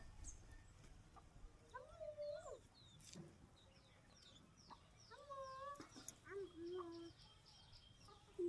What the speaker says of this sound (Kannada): ಅಲ್ಲಿ ಅಕ್ಕಿಗಳ ಸೌಂಡು, ಬರ್ಡ್ಸ್ ಸೌಂಡ್ಗಳು ತುಂಬ ಚೆನ್ನಾಗಿದೆ